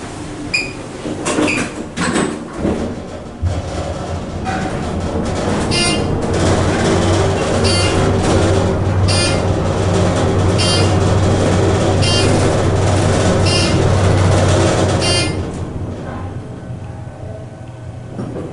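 A ThyssenKrupp traction glass elevator car riding up, with a loud steady mechanical rumble and whir through the middle of the ride, preceded by clunks and a door closing, then easing off near the end.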